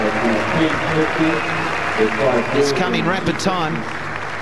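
Applause and cheering from the crowd at a Wellington cricket Test match between New Zealand and Australia, a loud sustained roar beneath a commentator's voice.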